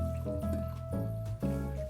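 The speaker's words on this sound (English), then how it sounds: "Pour this wonderful mix into our glass." Cocktail mix is poured into a glass, a close liquid stream with wet squishy glugs and drips in a few uneven pulses, over a tonal music background.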